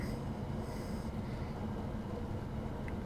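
Steady low rumble of a train rolling along the rails in the video game Train Sim World 2 on the Aachen line, with a faint high squeal from the wheels as it brakes, constant and close throughout.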